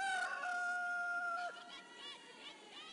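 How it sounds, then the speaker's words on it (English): A stadium hooter at a women's rugby sevens tournament in Clermont blares a loud electronic rooster crow, cock-a-doodle-doo, ringing over crowd noise before fading into the stands' murmur. "when that halftime hooter goes off, the cock-a-doodle-doo"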